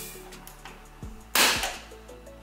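An air-powered three-barrel Lego shotgun fires with a sharp, loud burst of air near the middle, set between a few fainter mechanical clicks and knocks, with no voices.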